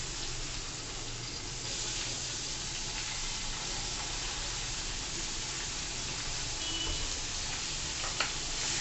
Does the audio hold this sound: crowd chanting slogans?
no